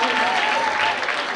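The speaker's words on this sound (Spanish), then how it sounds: "Un aplauso para Paulita, aula 9" Loud applause from an audience at a school program event, a dense continuous wash of clapping with a faint tone and crowd noise mixed in, lasting just over a second.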